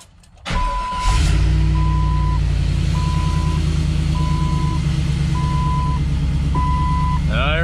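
A car's engine starts after a vacuum brake bleed, cranking into a steady, loud idle that holds to the end, with a repeating electronic chime or beep sounding at regular intervals over the running engine.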